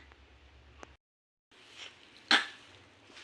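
A child imitates an adult's coughing and sneezing at home, producing a short burst of breathy noise followed after a pause by one sharp, loud cough-like blast, close to the listener.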